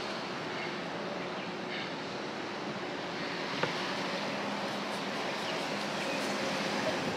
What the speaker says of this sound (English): Of course, it's a really windy day.